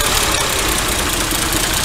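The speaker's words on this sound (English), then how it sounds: "There's 4 cylinders out of 6 running, and it still sounds great to me." A 2004 Mercedes engine idles steadily while running on only four of its six cylinders, giving a continuous, close, rough low rumble with a faint uneven knock throughout and no talking.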